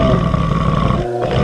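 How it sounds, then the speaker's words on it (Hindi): A ghostly black monkey lets out a loud, drawn-out roar that fills most of the moment before briefly dropping away, a close, rough animal bellow used as a horror-story sound effect. "तभी वह चिंघाड़ने लगता है।"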